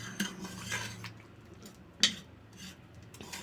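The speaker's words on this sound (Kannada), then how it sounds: "ಚಮಚದಲ್ಲೇ ಮಸ್ಕೊತಾ ಇದ್ದೀನಿ ನೀಟಾಗಿ." A metal spoon mashes cooked lentils and greens for sambar in a pot, making soft squelching strokes and a few clinks against the vessel, close and quiet.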